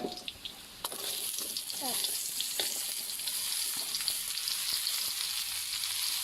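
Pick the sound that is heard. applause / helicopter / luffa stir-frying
luffa stir-frying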